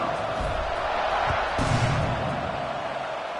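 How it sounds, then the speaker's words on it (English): Football stadium crowd at a Texas Tech game, a dense, steady buzzing roar of many voices, fairly distant and unbroken, with a brief louder swell midway. "this crowd is buzzing after that last score"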